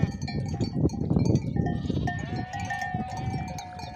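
Flock of sheep with newly arrived ewes and rams at a highland pasture, several animals bleating close by in overlapping wavering calls over a dense bed of shuffling and bleats.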